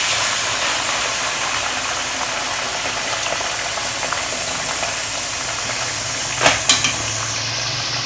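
Mutton liver sizzles and fries in a pan with ginger garlic paste, a steady close hiss with a couple of brief clatters of utensil against the pan near the end.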